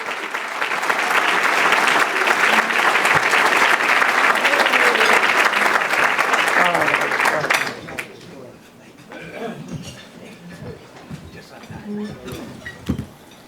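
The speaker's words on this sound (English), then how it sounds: "Let's give us a round of applause." A large audience applauds steadily and loudly for a speaker introduced at an event, then the clapping stops abruptly and quieter room noise and scattered sounds follow.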